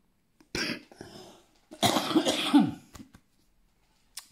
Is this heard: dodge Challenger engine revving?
no